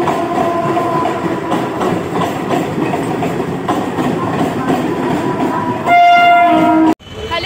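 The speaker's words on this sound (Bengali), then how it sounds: "এখান থেকে আমি ট্রেন ধরে বিধাননগর যাব" A train at a railway station rumbles steadily with a rattling roar of passing carriages, then a loud horn blast near the end before it cuts off abruptly.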